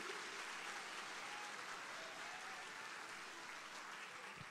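A church congregation applauds during a Sunday service, a continuous wash of clapping from many hands, fairly far off and faint, without pauses.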